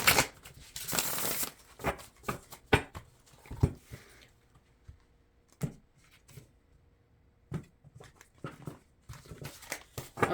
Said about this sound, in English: I already shuffled and cut this deck, but we're going to do it one more shuffle.